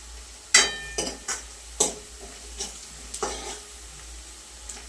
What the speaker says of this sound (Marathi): चला कांदा भाजलाय